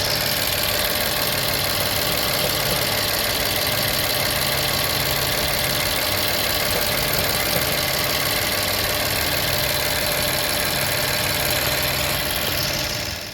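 A 2009 BMW 750i with a leaking high-pressure fuel hose, its engine running at a steady idle, a loud, continuous hum with a faint ticking knock throughout and no voices.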